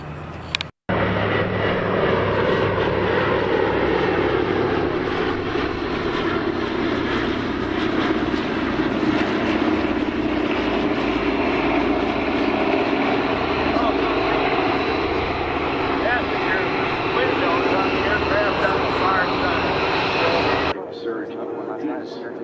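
Aircraft engines drone steadily and loudly at the Oshkosh AirVenture 2024 airshow, a continuous close roar that holds for about twenty seconds before cutting off abruptly.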